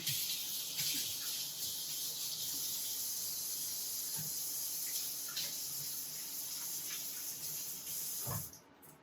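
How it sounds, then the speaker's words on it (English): Hands being washed under a running kitchen tap, a steady broadband water rush with small splashes throughout, ending abruptly as the flow stops near the end. "I'm gonna wash up my hands here"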